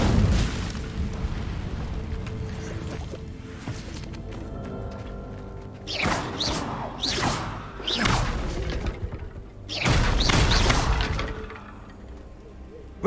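A fire spell cast in the video game Hogwarts Legacy, heard as a few loud whooshing bursts and booms, with a big flare partway through and another at the end over a low game ambience.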